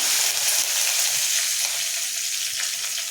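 Mustard seeds, urad dal, cumin, dried chillies and curry leaves sizzle in hot oil for sambar, a steady bright frying hiss with faint crackles and pops, close and continuous, no talk.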